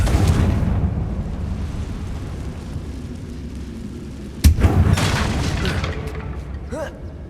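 A Confringo fire spell goes off in Hogwarts Legacy as a sudden loud boom, followed by crackling debris and rumble over a steady game ambience, with a voice speaking just beforehand.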